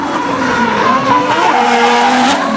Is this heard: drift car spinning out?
yes